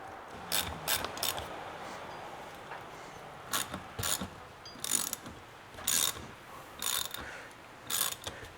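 A ratchet wrench tightens a nut on a BMW E46 suspension part, in roughly nine short, quick bursts of clicking with brief pauses between them. The ratcheting is close and fairly quiet, with no talking.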